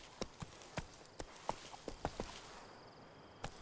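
Horse hooves clip-clop at a walking pace in The Witcher 3, out in White Orchard, in a clear, regular series of moderately loud steps that pause briefly before one last hoof strike.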